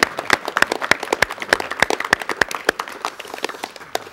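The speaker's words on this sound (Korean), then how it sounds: "여러분 박수로 부탁드립니다" Audience applause in a 1986 KBS television talk-show studio: a fairly thin, close round of clapping with individual sharp claps standing out, steady for about four seconds, no voices over it.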